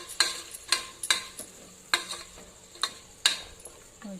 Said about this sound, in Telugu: కొద్దిగా టమోటాలు యాడ్ చేసుకున్నాను అది కూడా వేగాయి అందుకే గోరుచుక్కలు కూడా యాడ్ చేస్తున్నాను రెండు మిక్స్ చేసుకోవాలండి